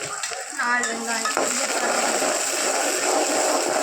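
Fish curry being stirred in a pan, a steady scraping and sizzling churn that runs continuously, close and moderately loud, with a brief tonal clatter near the start.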